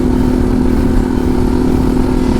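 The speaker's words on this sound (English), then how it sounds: "Harley-Davidson see that? Boy, that new pipe works good, don't it?" A Harley-Davidson motorcycle fitted with a new exhaust pipe rumbles loudly and close, a steady deep engine drone holding for a couple of seconds with no talk.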